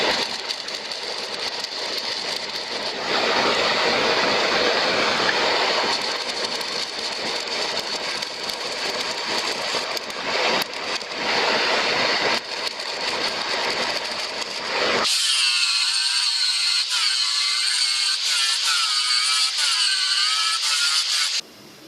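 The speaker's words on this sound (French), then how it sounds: "Mettre de la soudure baguette extérieure." A crack in a cast iron forge blower is stick welded, giving a steady loud crackling and buzzing arc that runs for about fifteen seconds before it changes to a thinner, higher hiss.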